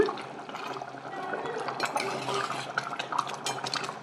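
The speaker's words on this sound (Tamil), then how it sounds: "பாருங்கள், நல்லா கொதிச்சு வந்துருச்சுங்க" Gravy bubbles at a rolling boil in a cooking pot, a steady close-up burble of popping and simmering liquid with faint clinks of utensils, no talking over it.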